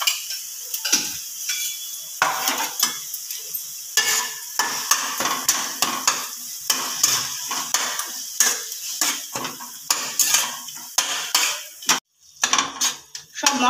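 Spices for taro leaves with hilsa head are stirred in a pan, with frequent spoon scrapes and clinks against the metal over a soft sizzle, close and busy throughout.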